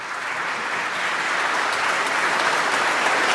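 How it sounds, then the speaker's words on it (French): Sustained applause for King Charles III at a state dinner at the Palace of Versailles, a dense, steady wash of many hands clapping that swells slightly and holds at full strength throughout. "Champagne et applaudissements pour le roi francophile"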